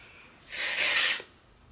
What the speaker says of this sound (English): And then you may need some hairspray at your bangs.